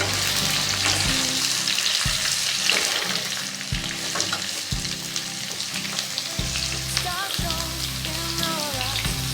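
Brinjal and ridge gourd stirred in a frying pan for a vegetarian torkari, a steady sizzle broken by repeated low scraping strokes of the spatula, close and alone.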